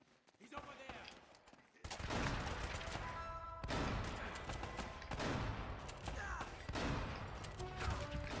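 Shotgun blasts ring out in the video game Uncharted, several loud booming shots in quick succession after a quieter opening, surrounded by dense gunfire and crashing game action.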